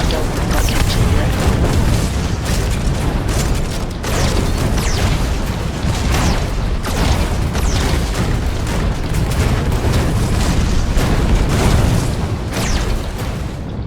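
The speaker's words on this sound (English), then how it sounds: "Gigantic gunfire rockets." Rockets and gunfire explode one after another in the shooter game Mothergunship, loud, dense booms and bursts pounding almost without a break, with a voice partly audible beneath the barrage.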